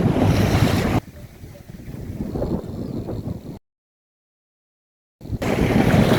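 Strong wind buffets the microphone while a sailboat runs fast through a channel near a mountain, with waves in the background; gusty roaring noise drops out for a moment of silence partway through, then returns.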